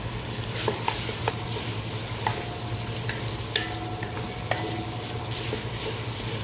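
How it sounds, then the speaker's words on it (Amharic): Onions frying in oil in a pot, a steady close sizzle broken by sharp spoon scrapes and taps against the pan every second or so, with no talking. "ሽንኩርቴን ጨምረና እዚህ ጋር ዘይት አድርጌያለሁ። ሽንኩርቴን ጨምራለሁ።"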